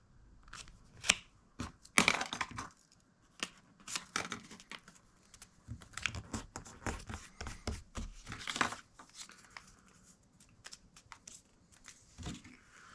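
Paper being folded and creased, with a series of sharp crinkles and rustles spread irregularly through a quiet room, some louder bursts near the start and middle.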